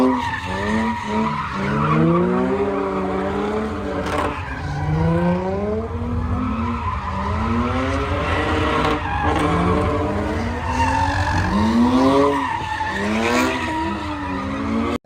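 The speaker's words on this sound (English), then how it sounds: "shoot off fireworks, and do burnouts and run their cars on the Bay Bridge" On the Bay Bridge, cars doing burnouts send out loud, repeated tire squeals with rising and falling whines, over a continuous revving engine roar with no pauses.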